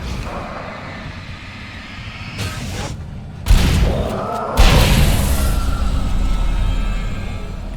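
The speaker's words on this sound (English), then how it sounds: "See this? It's flashbang" A flashbang goes off in the video game Alan Wake: a low ambient rumble is broken by two sharp booming bursts with a bright hissing wash, then a lingering rumble, with no talking.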